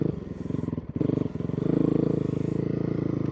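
A 2002 Honda CRF450R dirt bike fitted with a snow kit chugs along through woods, its single-cylinder engine pulsing in a fast steady beat at low throttle with a brief dip and then a rise, close and loud.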